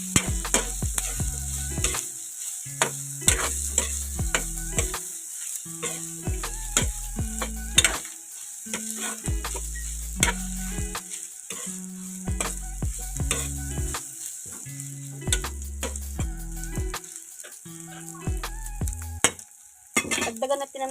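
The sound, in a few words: stirring isaw adobo in a pan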